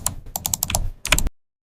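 Keystrokes on a computer keyboard rattle off in a quick run of about a dozen close, crisp taps, pausing once midway, then stop abruptly into silence.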